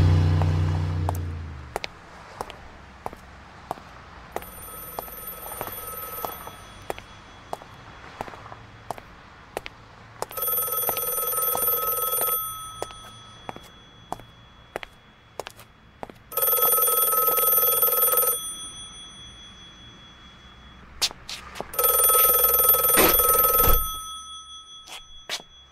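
Telephone bell ringing in four bursts of a couple of seconds each, separated by pauses, with faint footsteps and clicks between the rings.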